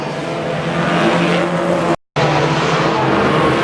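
A small Geo Metro race car roars around a short dirt or asphalt oval track at night, engine noise loud and steady with a brief dropout midway, tires scrubbing under racing traffic.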